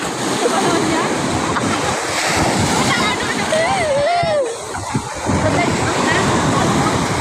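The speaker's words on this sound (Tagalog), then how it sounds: "Malayo, malakas yung alon." Strong ocean waves roll in at a beach in Zambales, making a constant loud wash of surf with wind buffeting the microphone. People talk over the roar.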